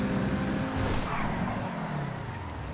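A fast car in the video game GTA 5 drives at speed, its engine a continuous loud roar with slight shifts in pitch and no talk over it.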